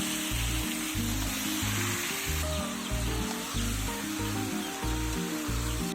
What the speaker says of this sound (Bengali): তারপর এই তেলের মধ্যে চিকেনটা দিয়ে খুব ভালোভাবে কষাতে হবে।